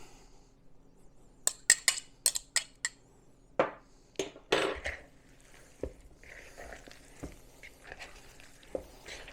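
Beaten egg mixed into sausage meat in a bowl for Scottish Lorne sausage, heard as faint clinks and taps of utensil against the bowl with soft squelchy stirring, sparse and irregular.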